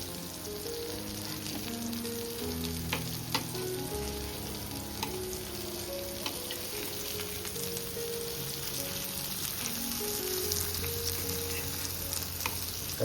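Creek fish, already cooked on one side, fries in a pan after being flipped, giving a constant close sizzle full of tiny pops and crackles with occasional light taps.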